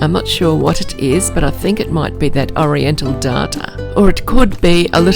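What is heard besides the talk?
No everyday noise stands out behind the speech.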